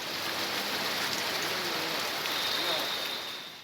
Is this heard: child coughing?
no